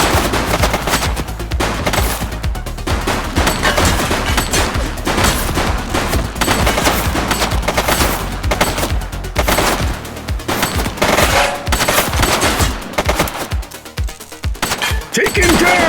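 Dense, near-continuous gunfire rattles through a police shooter video game, with rapid overlapping shots and automatic bursts sustained loudly for the whole stretch.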